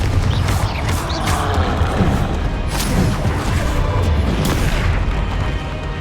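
Confringo blasting spells from the Hogwarts Legacy video game explode in repeated booming bursts amid loud, dense combat noise, with crashes and pops sounding close and continuous throughout.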